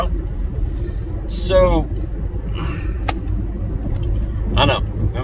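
Interior of a car on a rainy day, a low steady road rumble running throughout while someone talks over it.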